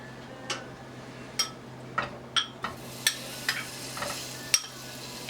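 Shrimp go into hot olive oil in a pan and sizzle close by, a steady hiss broken by a series of sharp metallic taps and clinks spaced about every half second.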